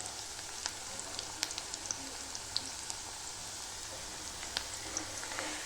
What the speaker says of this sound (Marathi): आपला कांदा चांगला फ्राय होतोय.